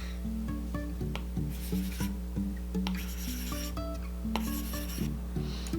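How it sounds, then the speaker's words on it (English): An Apple Pencil with a new tip writes on a Paperlike screen protector, a quiet continuous scratchy rubbing made of short strokes in an uneven rhythm, close and alone. "when you just got your Paperlike screen protector and your tip is still brand new, it should make this sound when you write"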